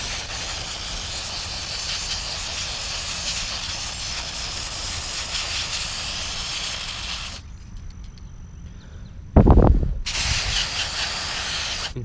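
Close, loud aerosol spraying of MAF cleaner onto the mass airflow sensor's mesh screen on a Subaru SVX: a steady hiss for about seven seconds, a brief pause, then another sharp burst of spray.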